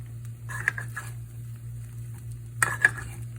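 Rice for arroz con gandules being turned in a pot, with two short bursts of scraping and clinking against the pot over a low steady hum, close and fairly quiet.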